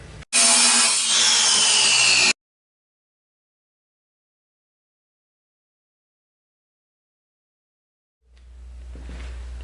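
Steel angle iron and pipe being cut for a homemade steel shooting target, a loud continuous harsh grinding-saw screech for about two seconds, then a long silence before a low rumbling hum rises near the end.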